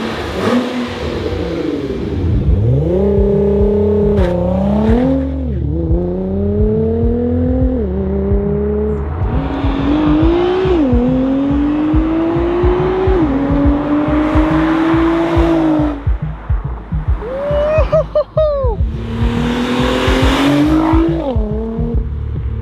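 A Nissan R35 GTR engine revs hard again and again, loud and close, with rising and falling pitch sweeps, sharp blips and a brief crackle partway through, and no talking over it.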